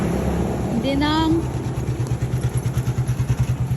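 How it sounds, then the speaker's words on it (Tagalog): A tricycle's small motorcycle engine putters nearby at night in Roxas City, Philippines, its pulsing idle growing louder and more rhythmic as it approaches, with a brief whistle-like tone early on. "At dinaanan nga kami nitong tricycle."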